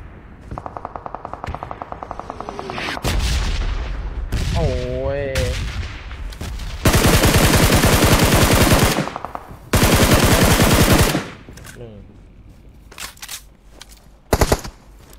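Loud gunfire from a shooting video game: long bursts of automatic fire and single shots, with sustained rattling volleys in the middle and faint voices in between.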